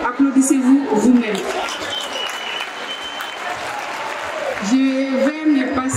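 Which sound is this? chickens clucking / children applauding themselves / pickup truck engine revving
children applauding themselves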